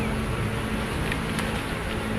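Honeybees drone in a continuous close buzz during an end-of-May hive inspection, a steady loud hum with a few brief sharper passes of individual bees near the microphone.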